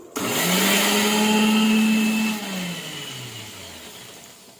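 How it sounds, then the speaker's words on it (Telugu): A mixer grinder whirs loudly at high speed grinding garlic coarsely, its motor pitch dropping as it slows near the end and continues running more softly. "ఇప్పుడు మనం మిక్సీ కడుతున్నాం"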